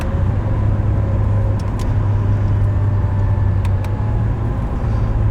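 Acura NSX hybrid sports car cruising at a steady pace, a continuous low engine and road drone with a sustained hum and no talking.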